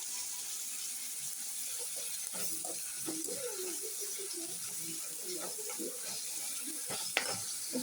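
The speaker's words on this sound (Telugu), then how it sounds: "ఇప్పుడు వీటిని కూడా మనం బాగా కలుపుకోవాలి" Tomato pieces are stirred into frying ingredients for tomato rice over a steady sizzle, with scraping spoon movements and low murmuring talk close by.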